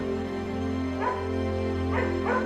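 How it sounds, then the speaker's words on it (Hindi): A cartoon dog lets out a few short, yappy barks in separate bursts over a steady, droning music bed, with no talking. "बिल्लू भौंकने लगा और भालू को समझाने की कोशिश करने लगा।"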